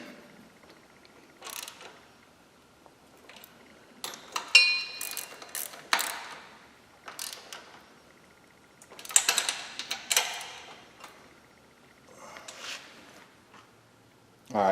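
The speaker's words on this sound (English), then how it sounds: "we're then going to take a 1/2 inch or a 13mm socket, and we are going to tighten the ones down here" A ratchet with a 1/2 inch or 13mm socket tightening bolts during a Barton Hybrid 3 shifter install on a 2011-14 car, giving several bursts of quick clicking, close by, separated by pauses and handling noise.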